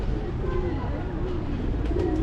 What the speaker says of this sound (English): Here there are lots of birds, you can see it.